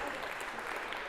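Dense, steady applause from a lecture audience in a hall, a continuous wash of clapping at low level throughout.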